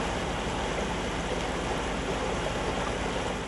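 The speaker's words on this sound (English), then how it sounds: "We're down in one of the unnamed tributaries of Hurricane Creek" Stormwater runoff rushing through an unnamed tributary of Hurricane Creek, a steady, loud broadband roar of flowing creek water with no other sounds standing out.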